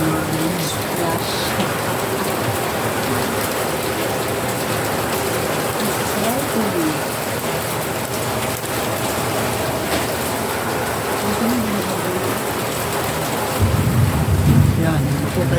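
Heavy rain from Typhoon Carina pours down in a steady, dense hiss that never lets up, with a slightly louder, rumbling surge near the end.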